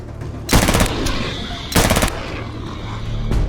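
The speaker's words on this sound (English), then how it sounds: "we completely changed the sound profile of shooting for automatic weapons" Two loud bursts of automatic gunfire in the game mod X-Ray Multiplayer Extension, each under half a second, separated by a quiet pause, with a third burst starting at the end.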